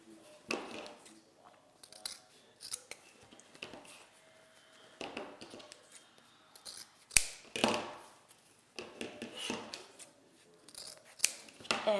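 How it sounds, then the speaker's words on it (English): Scissors snip through several layered pieces of ribbon at an angle, with repeated close, crisp cuts and light handling rustles between them. "I can take, you know, several pieces of ribbon at a time and cut my angle"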